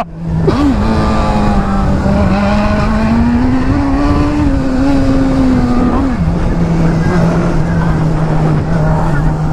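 A Honda Hornet motorcycle is ridden at a loud, steady engine pitch, climbing gently and easing back, then dropping sharply as the throttle closes before continuing to hum.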